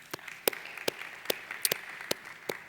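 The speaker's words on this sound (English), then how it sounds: "I think they deserve a round of applause" A small group claps in sparse, uneven bursts, fairly quiet and a little distant, with no voices.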